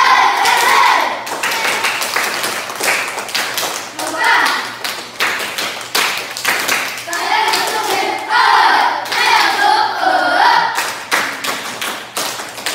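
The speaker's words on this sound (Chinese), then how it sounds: "泰雅族的掌声。" A group of schoolchildren gives Atayal-style applause, loud rhythmic clapping in patterned bursts mixed with lively voices, close by and filling the whole stretch.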